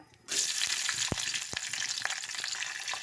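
Onion drops into hot oil in a pan for a raw prawn curry and sets off a sudden steady sizzle that carries on, loud and close, with a few sharp taps and clinks of a spoon.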